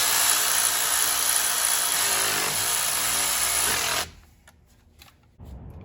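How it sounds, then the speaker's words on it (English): A power tool drives the single T30 Torx bolt that holds the brake rotor to the wheel hub of a 2014-2019 GM truck or SUV, giving a steady, close whir for about four seconds before cutting off into near quiet. "let's install the single T30 Torx bolt that holds the rotor to the hub"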